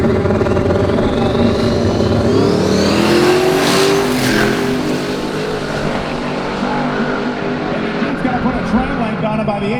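Drag racing cars, a Nissan GTR and a Pontiac, launching and accelerating at Roadkill Nights, engines roaring and rising in pitch as they pass, loud and close, with a commentator talking over them.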